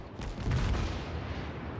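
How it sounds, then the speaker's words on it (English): Battleship guns fire in the naval video game World of Warships, a heavy low boom swelling and rumbling away, close and loud, with no talking. "Let's shoot at him a little bit and see if we can get the kill."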